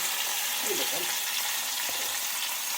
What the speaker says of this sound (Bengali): সমস্ত সবজি ওই যে তেলের মধ্যে ভেজে তুলে নিচ্ছে